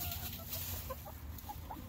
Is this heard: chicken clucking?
yes